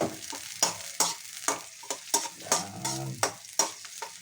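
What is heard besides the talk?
ginger frying in oil in a pan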